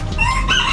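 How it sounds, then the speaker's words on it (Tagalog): A rooster crows close by, a single loud, drawn-out call with a rising and falling pitch over steady background noise. "Oy, may tumilak pang manok talaga"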